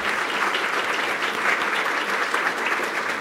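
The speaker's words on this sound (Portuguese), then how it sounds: "Eu gostaria de pedir uma salva de palmas para ele" Audience applause at a hospital scientific week event, a steady dense wash of many hands clapping together, close and sustained at even loudness with no talk over it.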